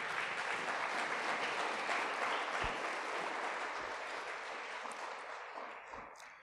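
A church congregation applauds loudly and steadily, with dense clapping filling the space. It fades slowly toward the end.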